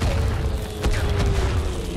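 A single heavy mortar blast booms out midway through a match of the World War I shooter Verdun on the Aisne front, set against a continuous low rumble of distant battlefield fire.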